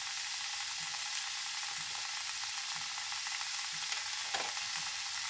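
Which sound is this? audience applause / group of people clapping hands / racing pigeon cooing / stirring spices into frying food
stirring spices into frying food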